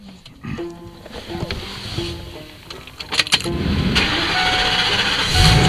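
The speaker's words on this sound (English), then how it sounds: "Let's see what the starter tells me when I turn it over." A starter motor cranks over an engine that has sat unused on a shelf for a long time, a steady mechanical whirring that builds louder toward the end, with brief clicks and rattles along the way.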